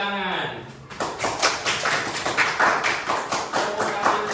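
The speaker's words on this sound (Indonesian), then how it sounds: "Tepuk tangan untuk mengapresiasi." Pupils in a primary school classroom clap their hands in appreciation, a burst of quick, fairly regular claps that starts right after a brief spoken voice and continues steadily to the end.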